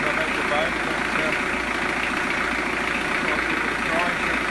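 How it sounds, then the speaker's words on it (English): A narrowboat engine runs at a steady, throbbing idle, a loud continuous diesel-like rumble close by that holds even throughout with no change in pace. "I'm going to start the engine up since I'm at the boat"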